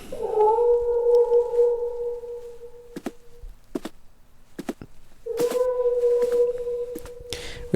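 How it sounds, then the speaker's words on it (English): A distant cat meows in the video game The Last Door: two long, drawn-out wailing meows separated by a few sharp clicks and a quiet stretch, with no talk. "there is definitely a cat meowing in the distance"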